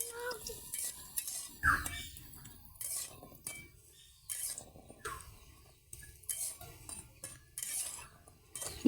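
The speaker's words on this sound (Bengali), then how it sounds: "প্রথমে কড়াইতে তেল গরম করে নিচ্ছি, তার ভিতরে বড়ি দিয়ে বড়িগুলো লাল লাল করে ভেজে নেব।" A metal spatula scrapes and clinks against a wok while lentil dumplings (bori) fry in hot oil, giving irregular close stirring knocks and rattles with a faint oil sizzle underneath.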